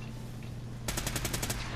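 Automatic pistol fired in Fallout 4: a rapid burst of about eight sharp, evenly spaced shots starting partway through, loud and close after a quiet stretch of low hum.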